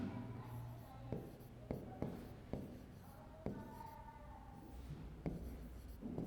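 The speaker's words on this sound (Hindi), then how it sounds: "जैसे उदाहरण लिखता हूं आपके सामने" Chalk or marker writing an example on a classroom board during a Hindi grammar lesson: a series of sharp taps and short scratchy strokes at irregular intervals, fairly close, with quiet room noise between them.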